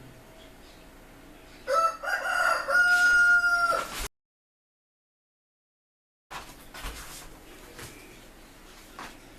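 A rooster crows once, loud and near, in a long strained call, followed by a few seconds of dead silence and then a stretch of quieter ambient noise.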